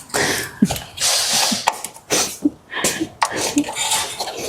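A socket wrench ratchets in short bursts of clicking during a wheel well liner replacement on a Kia Soul, close by, broken up by brief pauses and rustling handling noises.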